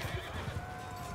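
Horse in Mount & Blade II: Bannerlord neighing after being struck by a thrown pila in battle, a short whinny over the busy din of combat, with hoofbeats clopping underneath.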